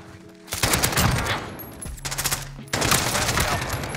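Rapid bursts of automatic AK rifle fire in a first-person shooter game, two loud sustained volleys separated by a short pause, close and dense, with no talking over them.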